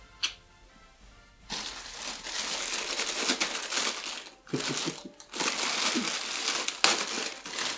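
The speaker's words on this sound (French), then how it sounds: "ce week-end j'ai reçu les premiers colis et je voulais les ouvrir avec vous" Cardboard parcels from an Altaya Megazord model collection are opened up close, with loud crumpling and crinkling of packaging broken by a couple of short pauses.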